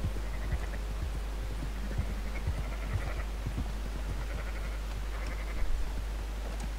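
Sheep bleat repeatedly in Red Dead Redemption 2, several mid-pitched calls scattered through a steady farmyard ambience with faint hoof clops, moderately close, no talking.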